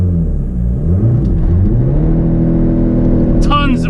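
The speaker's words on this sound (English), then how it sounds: "we're ready to do a 0 to 60 real quick" A TDI diesel car with a newly installed turbo accelerates hard from a standstill with traction control off, its engine note rising steadily in a loud, close drone from inside the cabin, and a voice briefly cuts in near the end.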